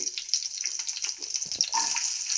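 Mustard seeds, cumin and garlic fry in hot ghee, crackling and sizzling softly in short uneven bursts for a couple of seconds.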